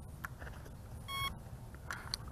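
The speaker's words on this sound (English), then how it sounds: "the remote control should make a beep, so we're going to rotate it horizontally. There you go, a beep is heard." A drone remote control beeps during compass calibration, giving short faint electronic tones, one clear sustained beep near the middle among scattered small clicks and blips in a quiet room.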